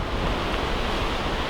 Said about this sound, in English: High strong winds like this, even though that's not typical.